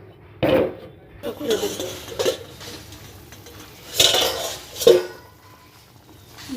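A cooking pot of fish curry handled on the stove as water is poured in and a lid goes on, with a handful of sharp metallic clanks, knocks and scrapes spaced out over quieter background.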